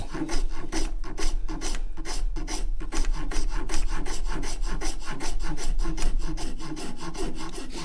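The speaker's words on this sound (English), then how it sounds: "if you are working this end grain area with a coarse file" A coarse file rasps across the end grain of a wooden guitar neck being shaped by hand, in quick repeated strokes of even rhythm, close and alone.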